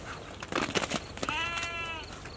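Nigerian Dwarf goats on a farm give a couple of short bleats, the last one a drawn-out, wavering call, close by with farmyard noise around them.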